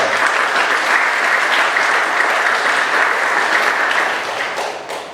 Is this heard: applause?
yes